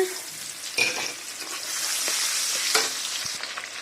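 Onions go into hot oil in a pan just used for frying salted fish, setting off a steady bright sizzle punctuated by a few sharp stirring knocks and scrapes close by.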